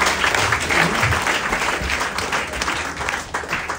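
A church congregation in Muntinlupa bursts into dense, sustained applause, many hands clapping together loudly and steadily for the full stretch, with no talk over it.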